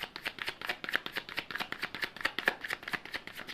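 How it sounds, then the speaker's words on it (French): Tarot cards are shuffled and handled from a deck in a quiet room, giving a rapid, even run of soft crisp riffling flicks that is close and fairly faint. "je vais prendre une petite carte"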